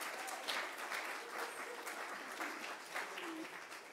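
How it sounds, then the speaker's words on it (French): A church congregation applauds a pastor's 50th birthday with steady, dense clapping from many hands throughout, moderately loud and filling the room, with faint voices mixed in. "donc vous pouvez également l'acclamer"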